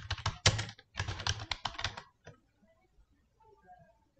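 Rapid bursts of typing on a computer keyboard while entering a search for book covers on a design website, close and clear, in two runs of keystrokes followed by a few isolated clicks and near silence.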